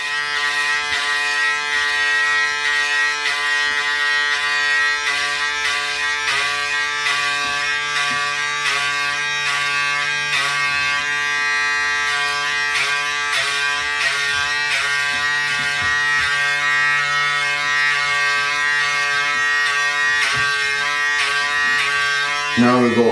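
A loud electric hair clipper buzzes steadily and close up during a self-haircut, its constant motor drone running throughout with small shifts as it cuts through hair, while someone talks over it.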